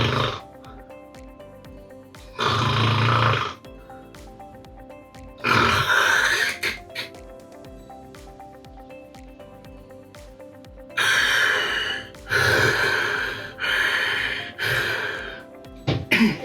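A voice imitates loud snoring with sleep apnea: several rough, snorting breath bursts separated by silent pauses, with the longest stretches of snoring near the end.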